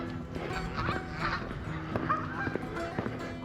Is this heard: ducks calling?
yes